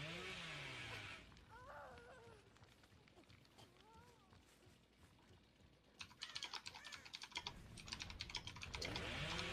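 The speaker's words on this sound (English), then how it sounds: "I can probably tell you might get a little annoyed by the typing" Computer keyboard typing during a relaxed Dead by Daylight gaming session, rapid irregular clicks running through much of the passage, with a dense burst near the end, mixed with game sounds and faint background.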